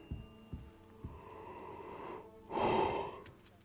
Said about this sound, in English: Oh, I can't stop yawning.